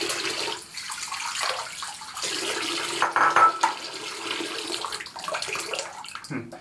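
Water runs into a sink while a hand is rinsed over a shaving bowl during soap lathering, a steady splashing hiss with a few brief pauses and shifts in flow.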